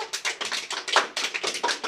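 Children clapping their hands together in a classroom, a quick run of sharp, close claps in a fairly steady rhythm, loud and free of talk.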